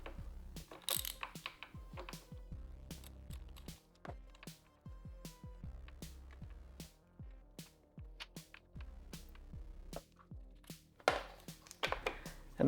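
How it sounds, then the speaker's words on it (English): Repeated ratcheting clicks from a tool driving a T20 bit to loosen the brake fluid reservoir cap screw on a BMW S1000RR motorcycle, a long rapid series of close mechanical ticks with occasional louder knocks. "I'll use a T20 bit over here just to loosen this guy up"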